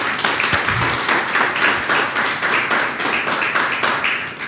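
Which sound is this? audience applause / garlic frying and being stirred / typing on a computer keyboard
audience applause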